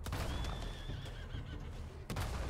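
Horses neighing in the Red Dead Redemption 2 video game, a loud drawn-out whinny rising and wavering over a low rumble, followed by another short whinny, with faint hoof clatter.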